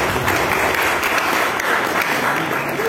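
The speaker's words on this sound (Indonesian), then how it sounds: "Tepuk tangan dong." Audience applause at a Javanese wayang performance event in a hall, dense steady clapping from a crowd filling the whole moment, fairly loud and close.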